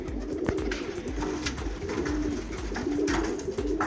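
Birmingham roller pigeons huddle close, giving off soft, continuous breathy rustling mixed with low cooing from the flock, steady and nearby throughout.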